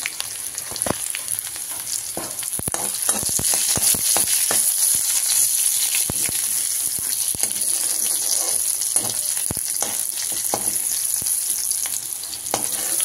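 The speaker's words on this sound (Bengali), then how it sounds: "তো আলুর সঙ্গেই ফ্রাই হয়ে যাবে রসুনটা" Garlic and green chilli frying with potatoes in a pan, giving a continuous, close sizzle broken by frequent quick scrapes and clatters of a spatula against the pan, with no talking.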